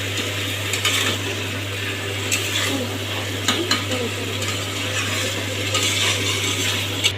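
Chicken masala is stirred and fried in a pan over a low flame, with a steady sizzle under repeated clinks and scrapes of a utensil against the pan.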